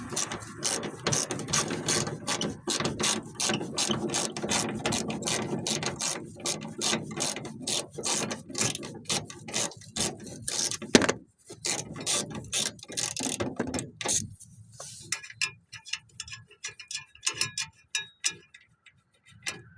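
Close, crisp ratchet clicking as fender bolts are loosened on a 2007 Mercury Grand Marquis, long runs of rapid ticks with brief pauses, then lighter, sparser clicks toward the end.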